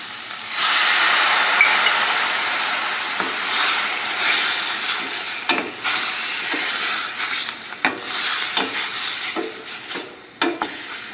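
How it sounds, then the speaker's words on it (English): Wine hits shrimp sautéing in a hot pan with smoked paprika, setting off a loud, steady sizzle and steam hiss, broken by stirring scrapes and a few sharp clinks of a utensil against the pan. "Now we put the wine."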